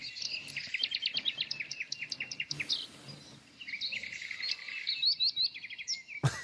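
Small birds chirp in rapid bursts of high, quick notes, moderately close, with insect-like trills and brief pauses between phrases, ending in a sharp thump.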